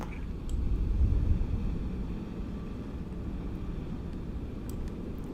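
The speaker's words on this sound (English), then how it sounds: "Alright, so APU is spooling up." Airliner APU spooling up in a PMDG 777-300ER flight simulator, a steady low rumbling drone that swells early and then settles to an even hum.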